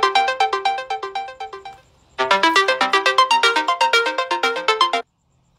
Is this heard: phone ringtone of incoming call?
yes